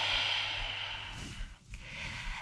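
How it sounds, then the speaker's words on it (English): A long, breathy exhale during a relaxing stress-relief workout, close and soft, tapering off with a brief nasal sniff near the end. "let's take an exhale to come back upright"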